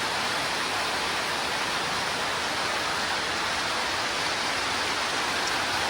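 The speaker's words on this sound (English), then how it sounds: "It's raining pretty hard here in Southern California." Heavy rain pours down in Southern California as a dense, even hiss of drops on surfaces, steady and enveloping with no voices.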